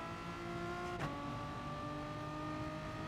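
A race car engine drones in Gran Turismo Sport, holding a steady, moderately loud tone with a brief dip and recovery as the revs shift.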